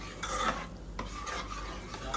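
A spoon stirs pressure-cooked vegetables into a pav bhaji pan, giving a steady scraping and soft sizzling that runs throughout at low volume with brief pauses.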